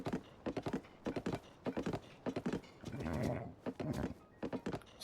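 A horse in Zelda: Tears of the Kingdom, clear rhythmic clip-clop hoofbeats in short bursts and a snorting whinny in the middle, close and distinct over quiet game background.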